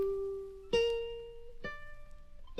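Three plucked guitar notes from an original recording, each struck cleanly and left ringing with a steady sustained tone before the next, played alone with no voices.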